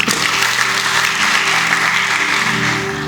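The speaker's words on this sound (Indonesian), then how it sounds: "Kasih tepuk tangan buat istri." A church congregation claps for the pastor's wife, a loud, full burst of applause that stays even throughout, with a held musical tone underneath.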